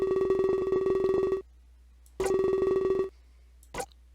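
Phone text message alert in the Major\Minor video game: a steady electronic buzzing tone sounds twice, each lasting about a second, followed by a short faint blip, clear and alone with no talking.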